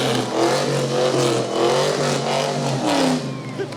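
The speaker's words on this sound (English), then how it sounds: "Some nice revving motors." Car engines revving at a city parade of lights, a loud, close roar that rises and falls in several throttle blips with a rough mid-range growl, with faint voices in the crowd.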